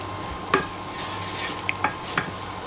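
A fishcake mixture seasoned with paprika and thyme being stirred in a pan on the hob: a low background sizzle with a few sharp utensil taps and scrapes against the pan, close up, with no talking.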